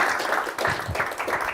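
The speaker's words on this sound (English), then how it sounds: "Big applause again for Professor Kazalicki" Audience applause for a professor at the close of a question session at an academic seminar on algorithm research, a brief burst of steady clapping from a modest crowd.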